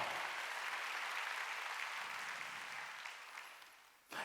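A Korean church congregation claps during a Sunday worship service, steady applause that gradually fades near the end before a brief rise.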